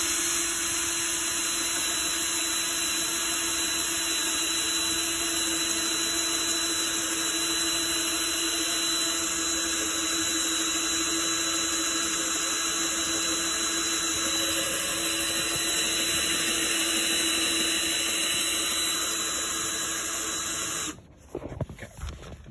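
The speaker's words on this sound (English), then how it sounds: "I'm drilling the holes." A power drill whirs steadily for a long stretch with a constant high whine, then cuts out abruptly near the end.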